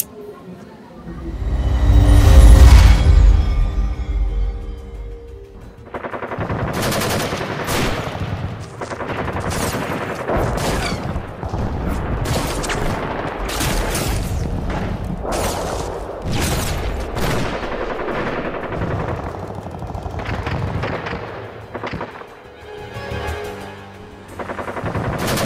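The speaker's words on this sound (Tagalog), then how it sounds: "Limampung malaking putok ng bomba," A heavy boom opens the scene, followed by a long barrage of rapid bomb blasts and gunfire-like cracks, loud and dense, with voices faintly mixed in.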